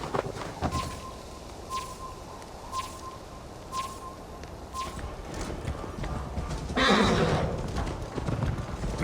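A horse in Assassin's Creed Valhalla snorts and whinnies as hooves clip-clop at a steady pace, with birdsong and rustling in the background and a louder neigh near the end.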